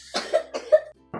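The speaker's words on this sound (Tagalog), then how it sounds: "Inuubo pa rin." A young boy who is still sick coughs twice, two quick close hacking bursts, followed after a short pause by the start of a third.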